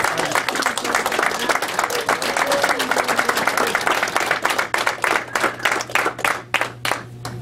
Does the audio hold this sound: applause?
yes